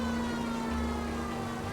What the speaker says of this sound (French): une sirène fatigante